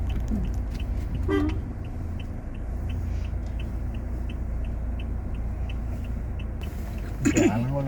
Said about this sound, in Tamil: ராஜபாளையம்னே ஒரு வண்டி வருது